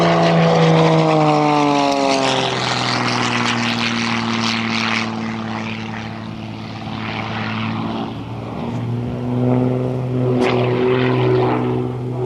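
A propeller light aircraft performs a tail slide at an air show, its engine note swooping down and climbing again in long pitch sweeps, loud and fairly close, without voices.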